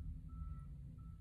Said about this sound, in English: Sorry if you can hear the garbage truck